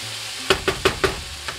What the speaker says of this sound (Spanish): Sofreímos ahí.